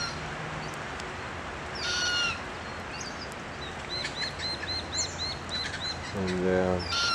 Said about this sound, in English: our cocky is still just making some plaintive noises up there